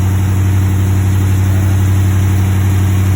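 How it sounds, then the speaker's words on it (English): Close, loud idle of a 2020 Dodge Challenger R/T V8, a constant low rumble with a steady pulsing beat and no change in pitch, heard alone without voices. "My helper's going to start the car."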